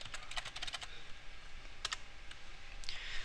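Typing a password on a computer keyboard: quick bursts of crisp key clicks up close, a cluster of rapid taps, a short pause, then a few more scattered presses in a quiet room.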